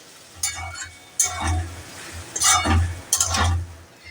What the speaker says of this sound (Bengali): একটু নাড়াচাড়া করে নামিয়ে ফেলবো